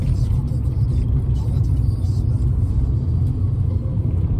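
A Fiat 500C with a 1.2-litre engine idles and runs in a steady low rumble, close and continuous, with no distinct revving.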